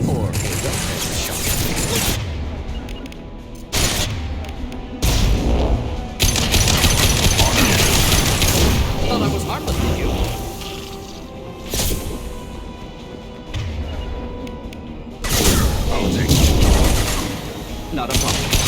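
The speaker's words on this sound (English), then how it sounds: "I'm detecting crates ahead that are holding unstable materials. Misplaced shot can cause a significant explosion." Gunfire and heavy explosions from unstable crates in the 2010 video game Mass Effect 2: repeated sharp shots and several loud booming blasts across the clip, with a steady mechanical background throughout.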